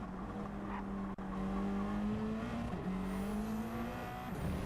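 A race car in a racing game at Fuji Speedway, its engine holding a steady high drone as it approaches a braking zone, with two brief dips that suggest quick gear changes.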